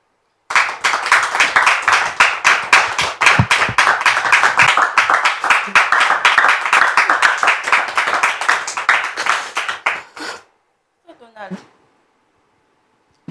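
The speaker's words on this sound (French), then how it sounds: "Je voudrais que nous puissions acclamer le Seigneur pendant qu'elle arrive." Church congregation applauding as a guest arrives: dense, steady rhythmic clapping close by for about ten seconds, then stopping, followed by a brief scrape and near silence.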